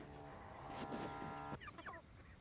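Hens cluck nearby in a farm coop. Low, continuous clucking fills the background, and a few sharper, higher calls come near the end.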